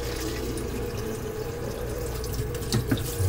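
Tap water runs steadily into a sink or tub while a newborn's bath is readied at home, a continuous close splashing flow with a few brighter drips and spatters near the end.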